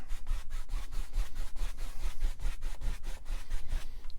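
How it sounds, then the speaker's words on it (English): A paintbrush making crisscross strokes with oil paint on canvas, giving a rapid, regular series of scratchy rubbing swipes, close up and clear, with no voices. "we're going to do crisscross strokes"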